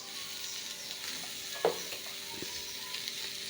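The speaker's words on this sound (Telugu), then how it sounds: "ఇప్పుడు ఇందులో ముల్లంగి శుభ్రంగా కడిగి తొక్క తీసి సన్నగా తరిగేసాను కదా, ఇది బాగా వేచుదాం." Finely sliced, peeled radish fries in a pan with a soft, steady sizzle close by, broken once by a brief stirring scrape.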